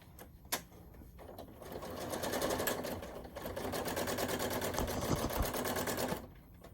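A sewing machine stitching a quilt runs steadily at close range, a fast even mechanical whir and clatter after a brief click, continuing for several seconds before stopping.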